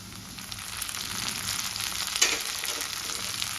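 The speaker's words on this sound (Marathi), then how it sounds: "कांदा छान झालेला आहे आता आपण टोमॅटो टाकून देऊ" Onions and tomatoes frying in a pan while cooking methi bhaji: a steady, soft broadband sizzle with faint crackles and one brief brighter pop near the middle.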